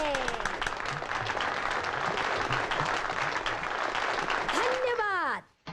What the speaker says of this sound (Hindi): आप सब लोगा ने एक बार जोरदार तालियां बजानी है